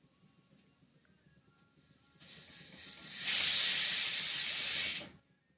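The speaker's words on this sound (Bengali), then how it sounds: "তারপর প্রেসার কুকারে 1 মিনিট চাপিয়ে নিচ্ছি" A pressure cooker holding paneer, kohlrabi and bean curry builds from a soft hiss into a loud, steady rush of escaping steam for about two seconds, then stops abruptly.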